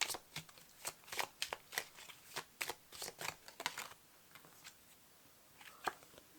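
A deck of tarot cards is shuffled by hand close up, a quick run of riffling flutters and soft slaps that thins to a few scattered card snaps toward the end.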